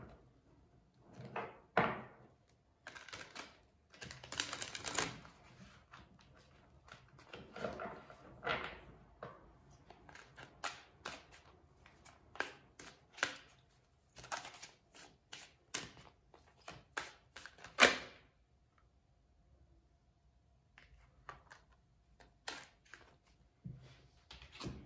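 Tarot cards shuffled and handled up close during a pick-a-card reading, with irregular crisp riffling bursts, soft slides and occasional sharp taps spread across the stretch, separated by quiet gaps and without any talking.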